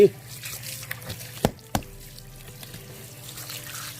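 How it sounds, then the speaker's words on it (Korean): Cold tap water runs steadily into a sink while boiled radish greens are rinsed, with a few sharp clanks and splashes at the start and middle, close and moderately loud. "찬물로 이렇게 헹궈 주고 이제 말리러 가겠습니다"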